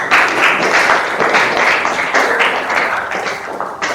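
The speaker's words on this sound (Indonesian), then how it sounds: "Beri tepuk tangan." A classroom audience claps together in a short burst of applause, loud and close, with a few uneven claps trailing off toward the end and no speech.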